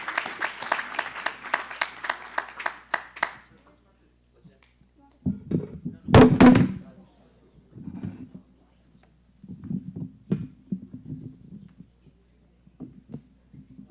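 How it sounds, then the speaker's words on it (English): Brief applause from an audience at a devotional birthday celebration and class, a few seconds of rapid clapping at the start that then stops, followed by quieter sparse sounds and near silence. "Please give her a big, big round of applause for all the services and seva she does."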